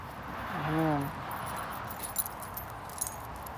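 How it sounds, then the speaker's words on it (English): Keys jangle somewhere near a parked car at the end of a bush hike in Australia, with a few faint, brief metallic jingles after a short stretch of a voice. "I hear the keys."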